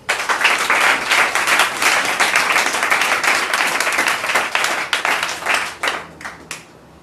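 A church congregation applauding, dense sustained clapping from many hands that stays loud and full before thinning out and tapering off near the end.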